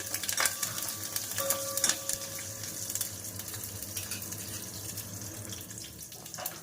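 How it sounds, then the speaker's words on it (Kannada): Mustard seeds crackle and splutter in hot oil with curry leaves and dried red chillies in a pan for rasam, a steady close sizzle with scattered sharp pops and no talk. "ಈಗ ಸಾಸಿವೆ ಸಿಡಿತಾ ಇದೆ."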